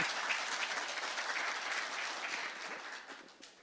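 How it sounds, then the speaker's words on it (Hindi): An audience claps steadily during a TV interview with a Bhojpuri singer, continuous moderate applause that gradually fades toward the end. "यानी वो ताली बजा के आशीर्वाद देता जाओ।"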